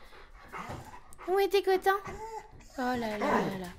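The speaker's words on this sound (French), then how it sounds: "alors ça c'est un berger australien" A red tricolor Australian Shepherd whimpers and whines in rising, wavering cries close by, in short bursts, while someone speaks affectionately to it.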